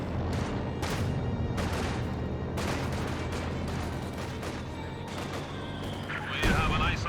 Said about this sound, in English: Mortar does strike the Shroom Officer.